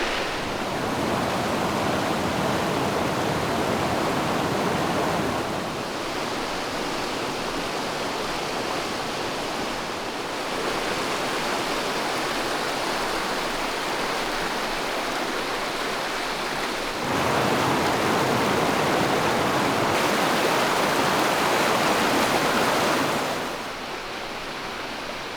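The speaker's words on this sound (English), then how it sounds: "The river's right on the other side." A mountain river rushes past an Appalachian campsite in autumn, a constant broad roar of flowing water that swells and eases in level over time, with no voices.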